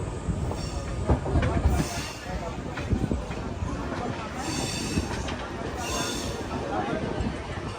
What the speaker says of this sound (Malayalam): സർനാഥ് റെയിൽവേ സ്റ്റേഷനിലേക്ക് ഇതാ നമ്മുടെ ട്രെയിൻ എത്തിക്കൊണ്ടിരിക്കുക.